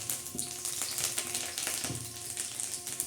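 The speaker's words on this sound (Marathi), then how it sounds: "ते तेल चांगलं कडकड तापलेलं आहे मग आता त्याच्यामध्ये आपण प्रथम काय सोडणार आहे कढीपत्ता" Curry leaves crackling and sputtering in hot oil at the start of a makli (squid) bhaji, a close, busy spatter of pops and sizzle with no voices.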